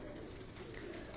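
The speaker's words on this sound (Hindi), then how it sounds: "एक हमारे टाइगर कबूतर है" Tiger and dub breed pigeons coo on a rooftop loft in Lahore, a steady low murmur of overlapping calls, fairly quiet and continuous with no voices.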